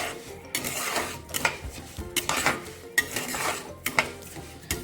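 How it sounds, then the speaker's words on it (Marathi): Cracked wheat (daliya) being stirred and roasted in ghee in a pan over a low flame, repeated scraping of a spoon against the metal pan in an uneven rhythm, close and clear. "मी आपली दलिया तुपामध्ये मस्त असं परतून घेतलेलं आहे"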